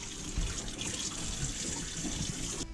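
Hot water runs steadily from a tap inside a VW LT 28 camper van conversion, a continuous close hiss and splash of flowing water with no talk, ending abruptly.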